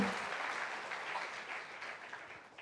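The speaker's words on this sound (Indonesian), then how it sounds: "kita berikan aplaus dulu untuk Mbak Popi" A studio audience applauds a guest on an Indonesian talk show, with steady dense clapping that holds at an even level throughout and no talk over it.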